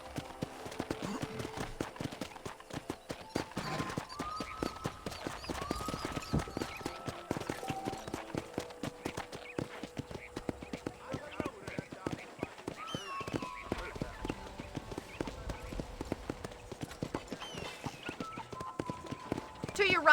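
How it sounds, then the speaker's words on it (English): Horse hooves clip-clop steadily while riding in Red Dead Redemption, a continuous rhythmic trot under game music and character dialogue. "let's see if you can still ride a horse"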